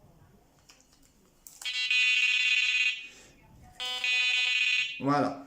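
A New Direction Tackle fishing bite alarm gives two sustained electronic beeps a few seconds apart while its indicator colour is switched, with someone speaking briefly before and after.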